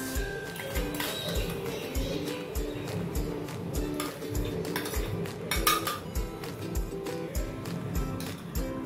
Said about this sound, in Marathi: आता कढईमध्ये 1 चमचा तूप टाकून घेते।